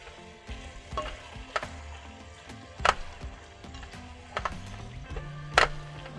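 Vegetables sizzle in a pan on a gas stove in a van kitchen while being stirred and mixed for homemade spaghetti, with a low frying hiss and repeated sharp scrapes and clacks of the utensil against the pan.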